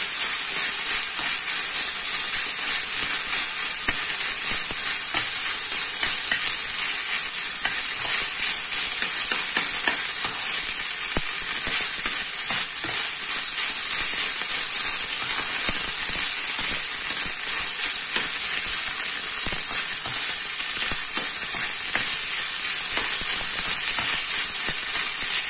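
Rice stir-frying in butter for vegetarian American fried rice, a loud, dense, continuous hissing sizzle close up, broken by faint scraping stirs and never pausing.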